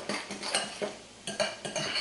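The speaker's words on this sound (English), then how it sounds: "I'm going to add some salt and pepper and just give this a stir" A spoon stirring chopped onion with salt and pepper into an avocado and lime mix in a bowl, with several quick rhythmic scrapes and clinks against the bowl, close and fairly loud, without any talking.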